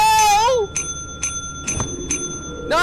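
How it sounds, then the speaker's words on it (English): A bell in the video game Lethal Company rings four times in quick, evenly spaced clicks with bright ringing tones, while a voice speaks just before and after. "Click the bell!"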